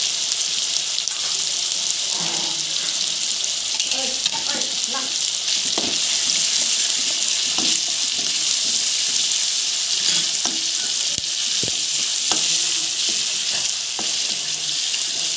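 Local chicken meat, already caramelized, fries in a pan with ginger and garlic. It gives a steady, bright sizzle for the whole stretch, broken by irregular scraping and clicking as the meat is stirred.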